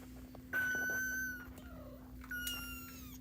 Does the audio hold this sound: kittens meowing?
yes